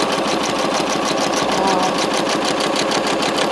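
Janome sewing machine running steadily during free-motion quilting, a fast, even mechanical whir with a rapid stitching pulse, close and continuous throughout.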